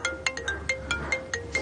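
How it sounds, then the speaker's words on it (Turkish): A telephone rings indoors with a steady run of short electronic trilling tones repeating at an even pace, clear and alone with no voices. "Affedersin, telefon çalıyor."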